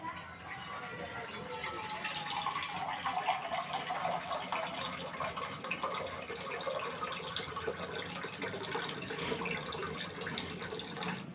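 Water runs steadily from a tap into a pot for making tea, a continuous hissing gush, close by with faint background noise.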